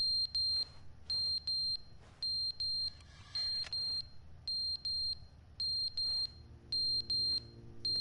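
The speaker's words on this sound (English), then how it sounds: "Smoke detector." Smoke detector alarm in The Stanley Parable video game, sounding a steady pattern of sharp, high electronic beeps in repeated groups of three, loud and close, with a low background hum underneath and no talking.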